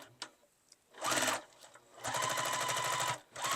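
Sewing machine back stitching the top of darts on fabric for a reversible bowl cozy: a short burst of rapid mechanical stitching, a pause, then a longer fast run, close and clear with small clicks between.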